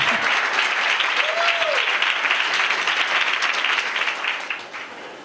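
Audience applause at a live talk, a loud, sustained round of clapping that gradually fades toward the end, with a voice briefly audible over it.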